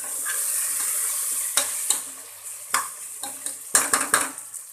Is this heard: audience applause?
no